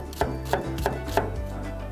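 Four crisp knife strokes pull-cut through an onion on a cutting board, evenly spaced and close, with no speech.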